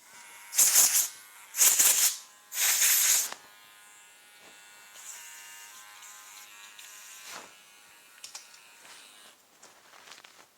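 Electric hair clippers buzz loudly in three short bursts, then a fainter steady hum continues with occasional small clicks.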